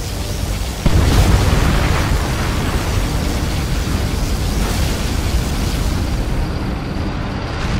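A particle cannon strike in the real-time strategy game C&C Generals Zero Hour: a sudden loud boom gives way to a continuous heavy roaring blast that holds steady for several seconds, with no talking.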